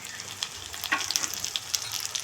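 Onion, garlic, chopped green chilli, tomato and ginger paste fry in a pan for a goose egg curry, giving a steady close sizzle with scattered sharp crackles and pops throughout, with no voices.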